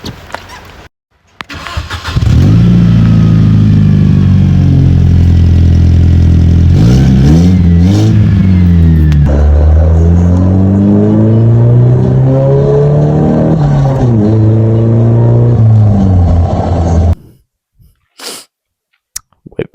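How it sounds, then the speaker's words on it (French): A car engine turns over and starts, then revs, its pitch climbing and falling as it drives. Loud and close, with no talking. "Est-ce qu'il serait pas temps de démarrer la voiture pour rentrer?"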